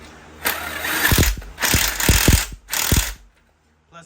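Three long bursts from a Harbor Freight Bauer impact gun driving bolts on an engine block, each a loud buzzing hammer run with sharp clattering impacts, separated by short pauses; no talking.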